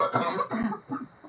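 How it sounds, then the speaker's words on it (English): A baby coughs several times in quick succession, short raspy bursts close to the microphone, with no talking. "Oh, baby has a cough."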